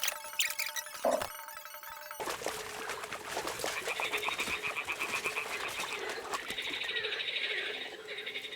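Toads croaking in Kingdom Come: Deliverance, a dense chorus of overlapping throaty croaks that continues steadily near and loud, starting after a short game-sound passage.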